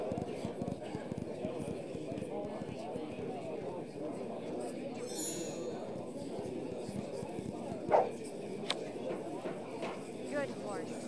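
Horse hooves clip-clop at a steady running pace in a horse-riding video game, a constant rhythmic patter under a talking voice, with a faint neigh partway through.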